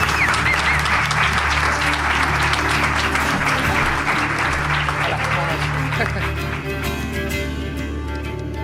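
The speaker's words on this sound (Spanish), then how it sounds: "Esto merece un aplauso enorme" A studio audience applauds for Miguel with sustained, dense clapping that stays loud for several seconds and then thins out slightly toward the end.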